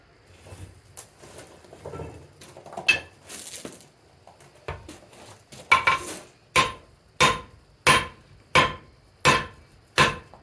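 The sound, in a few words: blacksmith hammer forging hot metal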